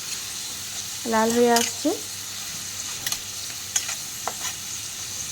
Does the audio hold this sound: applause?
no